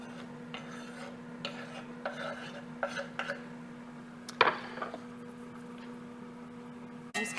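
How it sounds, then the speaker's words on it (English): Eggplant being stirred in olive oil in a pan over medium-low heat: soft, scattered scraping and rubbing strokes of a utensil against the pan under a low steady hum, with one sharper clink partway through. "I'm just going to stir this around enough to get the eggplant coated with the olive oil so it doesn't stick"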